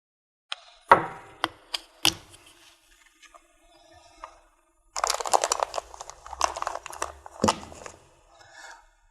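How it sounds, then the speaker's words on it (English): A knife cuts through the outer insulation of an RF cable 50mm from its end while an RBS 6000 connector is fitted outdoors, giving a series of close, sharp crunching and cracking snips followed by a longer stretch of dense scraping and crinkling. "we just cut the outer insulation"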